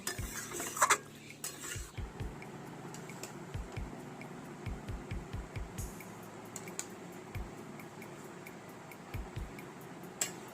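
A pan of chilli chicken with capsicum being taken off the stove, sharp metal clatters and scraping knocks of pan and utensil, then a string of soft low thumps.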